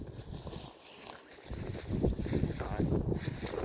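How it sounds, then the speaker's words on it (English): Gusty outdoor wind by a creek in winter buffets the microphone with a low, rough rumble that swells and stays strong through the second half. "the wind is probably not the best friend of me right now, because it's literally taking it"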